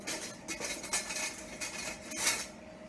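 Spoon scraping and clinking against a pot while stirring coconut into a pot cake (bolo de pote de prestígio) mix, light irregular metallic taps and scrapes, fairly quiet and alone.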